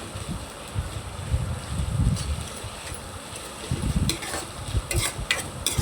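Chicken biryani masala sizzling in a pan while being stirred, with a close, steady frying hiss under bursts of scraping and stirring, and a few sharper clinks near the end.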